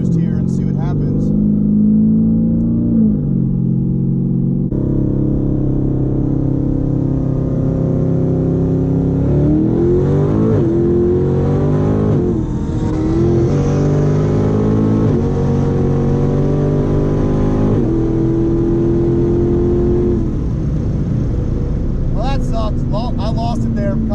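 A twin-turbo Lamborghini brake-boosts at the line, its engine droning loud and steady, then revs and surges off in a hard launch, the roar climbing and wavering up to a final shift, with people talking over it.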